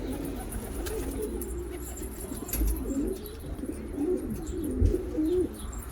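Pigeons of the Kişmir and Karalaca silver-tail breeds coo softly and repeatedly in a low, warbling murmur, with a few close rustles and bumps, over steady background noise.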